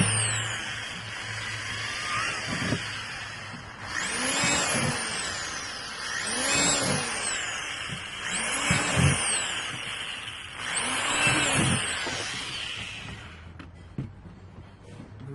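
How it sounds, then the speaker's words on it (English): A power drill bores drainage holes in a cheap plastic bin being made into a worm composting bin. It whines up in four separate drilling bursts, close and fairly loud, with short pauses between them and no talking. "drill a few holes."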